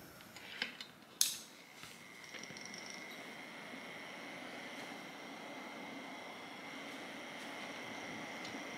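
A fan fitted with 3D-printed TPU blades starts with a couple of clicks, then spins up into a steady whirring hum with a faint high tone, continuing evenly and quietly on its own.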